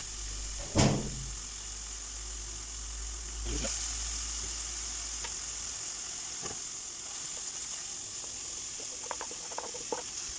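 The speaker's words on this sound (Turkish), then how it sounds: "Kavrulan kıymalarımızın üzerine ince ince doğradığımız soğanlarımızı ekliyoruz." Steady sizzling of minced meat and onions frying in a hot pan, with a couple of sharp knocks and light clatter of utensils near the start.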